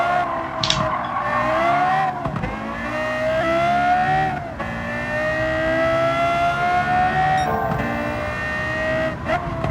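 A Lexus V10 engine developed with Yamaha howls at high revs in Gran Turismo 7, a loud sustained wail that dips briefly at gear changes or braking and climbs again, with faint tire squeal and no talk.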